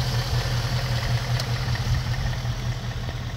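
A 2020 Ford Mustang GT with its 5.0 V8 idles steadily nearby, a deep, even low rumble held throughout without revving.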